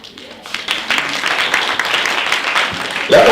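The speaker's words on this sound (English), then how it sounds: "Let's applaud them." Audience applause at the closing ceremony of a university STEM festival and research symposium, rising into a dense, steady patter of many hands for about three seconds, with some voices mixed in.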